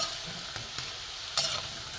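Drumstick flower pakoras frying in a small amount of oil, a dense, close sizzle throughout with a couple of brief utensil scrapes against the pan.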